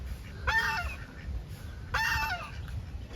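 Two loud honking, quacking calls of ducks and chickens on a farm, a second and a half apart, over a low rumbling outdoor background.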